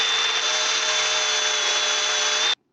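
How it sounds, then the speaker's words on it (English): Power tool grinding metal on the grille of a Massey Ferguson 231 tractor, a steady loud whine with a high tone that runs unbroken for about two and a half seconds and then cuts off abruptly. "let's do some grinding"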